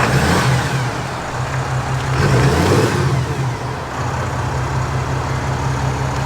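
A deep, loud Ram Cummins diesel pickup truck engine idles and revs up briefly, then settles back to a steady rumble, heard up close without talk.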